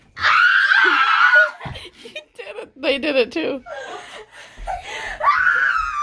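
Children screaming and shrieking loudly during a yoga pose challenge, long high-pitched cries mixed with laughter, wheezing giggles and excited talk, all close by.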